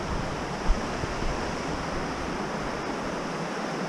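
Creek water rushing beside a hiking trail along the North Cascades Highway, heard as a continuous broad hiss of flowing water, close and steady, with no talking.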